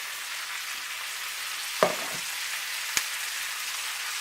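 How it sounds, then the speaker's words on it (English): Onions sauté in a cast iron pan with a steady, even frying hiss, broken by a sharp utensil knock and one later click. No one speaks. "you just want to saute these onions so they look golden brown"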